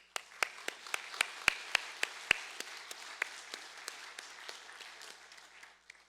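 A church congregation gives scattered applause during an afternoon worship service. Sharp individual claps ring out loudly at first and then thin into lighter, uneven clapping across the room.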